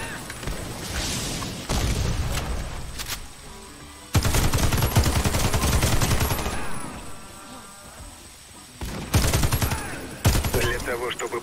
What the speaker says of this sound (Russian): Своих стреляю.